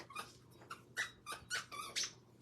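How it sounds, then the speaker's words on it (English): A puppy works a squeaky toy, producing about six short, sharp squeaks in an uneven rhythm, fairly faint against a quiet room. "Oh, we have a squeaky toy now. Okay. The puppy has the squeaky toy."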